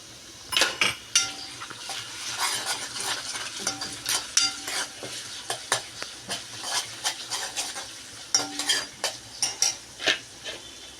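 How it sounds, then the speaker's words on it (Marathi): Onion sautéing in oil in a pan, with curry leaves and ginger-garlic paste going in for a Marathi-style suran (elephant foot yam) dish: a steady soft sizzle beneath repeated close metal spoon scrapes and clinks against the pan, no voices. "कांदा आपला छान तेलावर परतलेला आहे त्याचबरोबर आपण इथे कढीपत्ता ॲड करणार आहोत"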